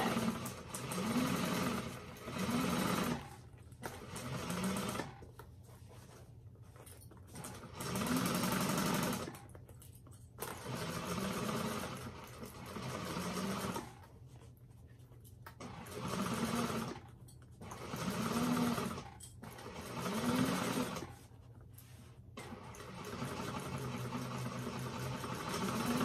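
Sewing machine stitching a bag seam with a quarter-inch allowance, running in repeated bursts of steady whirring with brief pauses between passes, close and fairly loud.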